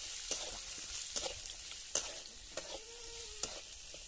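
Pigeon pea seeds frying with green chilli and garlic in a pan, a steady close sizzle under occasional sharp taps and scrapes of a stirring spoon, with no voices.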